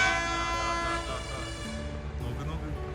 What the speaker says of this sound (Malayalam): ഇതേ ട്രെയിൻ വരുന്നുണ്ട്